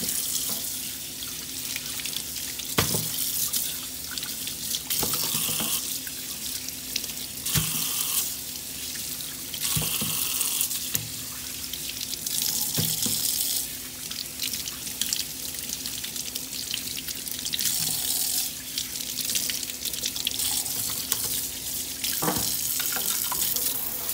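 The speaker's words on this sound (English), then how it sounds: "I'm just gonna get them all rinsed off really" Water runs from a kitchen tap over pig feet in a sink, a steady close splashing hiss with occasional knocks and clunks as the feet are handled and rinsed.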